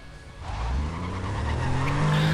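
Racing car in the video game Need for Speed World, its engine revving up in a rising whine as tires squeal and skid loudly and steadily, heard close without talk.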